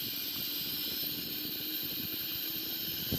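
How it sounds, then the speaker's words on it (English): The left engine of a Boeing 777-300ER spools up during start, heard as a steady, even whine with hiss and a low rumble throughout, without talk. "So here we go, we have the left wing engine, start now."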